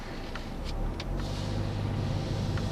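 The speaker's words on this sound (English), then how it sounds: "let's take a look at how this 2-liter Ecoboost Taurus drives" A 2013 Ford Taurus full-size sedan with the 2.0-litre EcoBoost engine cruises along, its steady low engine drone and road rumble filling the cabin with a few faint clicks and no talking.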